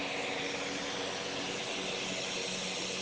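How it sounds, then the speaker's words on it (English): A steady, broadband roar from an airplane passing overhead fills the scene throughout, loud and unbroken, with no voices. "Let's just give this plane a quick second to pass"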